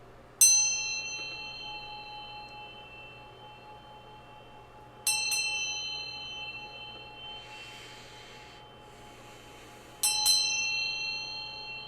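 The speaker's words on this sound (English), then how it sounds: "I'm just going to ring this bell to bring in some good vibes here." A small hand bell struck three times, each bright ring ringing out and slowly decaying before the next, evenly spaced a few seconds apart in a quiet room.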